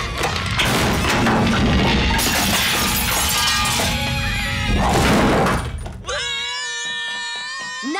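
Glass shatters and crashes loudly during a cartoon performance, with a sustained smashing din and yelling over it, followed by a shrill sustained vocal tone.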